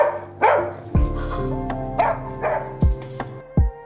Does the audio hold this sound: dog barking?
yes